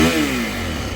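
Close-up Yamaha WR450F 450cc motorcycle engine given a small blip of throttle, its rising rev note easing back down in a short loud burst with no talking.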